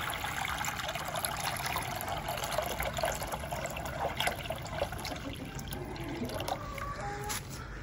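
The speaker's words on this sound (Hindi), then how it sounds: "पहले इसमें पानी डाल के इसको साफ कर लेते हैं।" Water is poured into a bird's water bowl to rinse it, a faint, continuous splashing trickle running the whole time.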